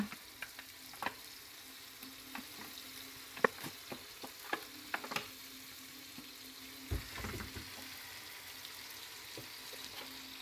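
Octopus, squid and shrimp fry in a pan, a soft continuous sizzle punctuated by scattered clicks and knocks of a utensil stirring the seafood, with no voices.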